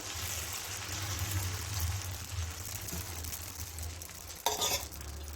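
Uttapam batter sizzling and frying on a hot pan, a steady close crackle with a brief louder scrape of utensil near the end, no voices.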